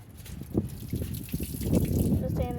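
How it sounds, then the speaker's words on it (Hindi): Water tossed out of a pigeon's water dish, a brief splashing pour and trickle that rises toward the end, heard under someone talking. "इसका मैं पानी फेंकता हूँ।"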